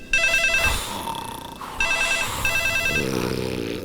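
An old-style telephone bell rings loud and close in a house, sounding in bursts of a trilling electronic ring with a short pause between them and no voices over it.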